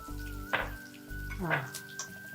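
Chopped chillies fry gently in a pan on low heat, giving a faint, steady sizzle under a voice talking, with a couple of soft stirring clatters.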